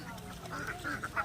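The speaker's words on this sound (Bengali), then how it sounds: "কেমন করে ডাকে সুরো, হাঁসগুলো বলো।" Ducks quacking beside a school pond, a few short nasal calls in quick succession, fairly close and moderately loud over a steady low background hum.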